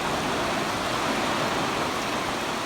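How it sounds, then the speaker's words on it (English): Overnight rain falling near a pond, a steady dense hiss of drops without pause, fairly loud and even throughout, no voices. "Listen to the rhythm of the falling rain."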